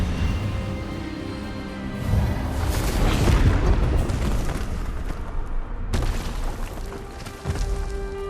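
A spell blast cast in the game Hogwarts Legacy, a loud booming magical burst that swells over several seconds, then cuts off and is followed by a second surge, with no talking.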